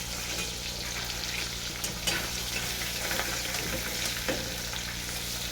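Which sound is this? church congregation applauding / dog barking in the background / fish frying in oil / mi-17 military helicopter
fish frying in oil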